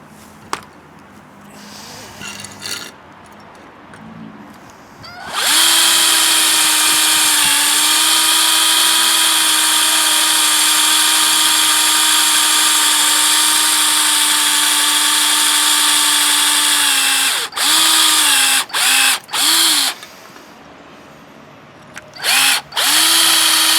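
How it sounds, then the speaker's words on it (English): A power drill starts up and runs at a loud, steady high whine for about twelve seconds while drilling through a hole in a begleri piece, then stops with a few short bursts afterward. "I'm going to drill through the other hole so it meets in the middle"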